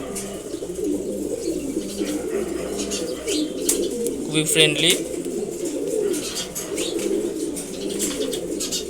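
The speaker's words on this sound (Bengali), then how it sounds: "সবজি গররা মাশাল্লাহ নর কবুতর আমার খুবই পছন্দের একটা বাচ্চা।" A male Sabji Gorra pigeon coos nearby in low, repeated burbling phrases, with a few soft chirps and rustles, while a person talks over it.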